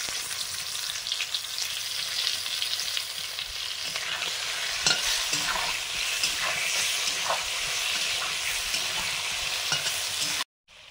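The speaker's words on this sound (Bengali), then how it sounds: "চিংড়ি ভাজা হয়ে গেছে" Shrimp frying in oil in a pan with chopped tomato and salt, a dense continuous sizzle with scraping stir noises throughout, loud and close, ending abruptly.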